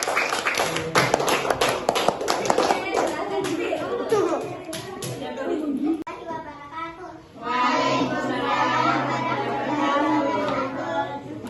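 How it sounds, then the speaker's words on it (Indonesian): Classroom children applauding a group's work, a burst of quick claps that fades into overlapping chatter from the kids. "Silakan diberi aplaus dulu untuk temannya dari kelompok 4"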